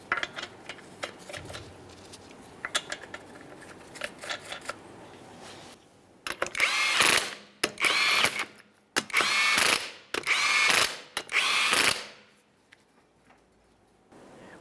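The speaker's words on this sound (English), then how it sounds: "start on all 5 of your lug nuts, snug them up" A rattling impact or power tool snugging up lug nuts on a 2013-2020 Ford Fusion wheel, heard as several loud, close bursts of whirring and ratcheting about a second each, after a quieter stretch of clicking and handling.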